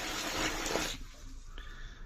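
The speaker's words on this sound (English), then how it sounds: "More water." Water gushes as it is poured onto a mini RC crawler terrain indoors, a loud splashing burst lasting about a second before trailing off into quieter background.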